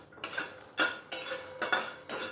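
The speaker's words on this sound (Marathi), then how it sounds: "ह्याला आरावर असं भाजून घ्यायचं आहे अगदी दोन मिनटामध्ये हे आपले शेंगदाणे भाजतात" Peanuts dry-roasting in a pan are stirred with a metal utensil, giving five or six rhythmic scraping, rattling sweeps close by. No voice is heard.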